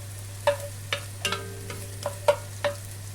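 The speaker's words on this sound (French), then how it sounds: "Et je vais y mettre également le thym. Voilà, et je vais laisser rissoler tout doucement." Diced onions and thyme gently browning in a pan: a utensil scrapes and taps the pan in a handful of sharp, spaced clicks over a low, steady hum, with no voices.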